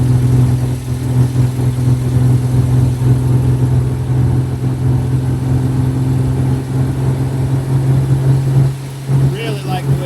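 The engine of a 1953 Hudson Super Wasp, running in overdrive at about 50 miles an hour, hums steadily at low pitch with road and wind noise while people talk over it.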